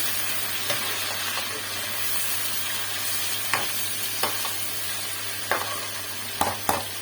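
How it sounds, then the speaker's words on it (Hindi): Onions fry in a pan for Hyderabadi pulao, a continuous dense sizzle with a low steady hum beneath and occasional sharp scrapes of stirring, close and without talking. "प्याज के अंदर जो है ना अच्छे से इसको फ्राई कर लूँगी"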